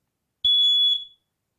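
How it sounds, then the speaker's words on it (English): Smoke detector alarm sounding during a push-button test, a single loud piercing steady tone of just under a second that cuts off cleanly, alone with no talk. "I like to hear that sound. I like to hear that alarm."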